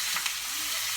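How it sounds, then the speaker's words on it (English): Pork searing and sizzling in a very hot pan, a steady close frying hiss with light crackles, no talking. "We really want the pan nice and hot so you hear it sear and sizzle"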